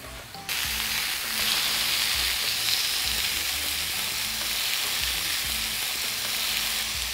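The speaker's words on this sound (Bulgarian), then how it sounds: "слагам малко мазнина и мога да започна печенето на месото" Chicken meat sizzling and frying in fat in a pan with vegetables, a steady close hiss that starts abruptly and continues unbroken, with faint crackles and occasional stirring underneath.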